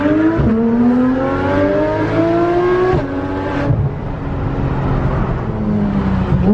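Porsche GT3 RS fitted with an IPE exhaust, its engine howling loudly as it revs up through the gears in rising sweeps, with brief drops at each shift, very close and dominant.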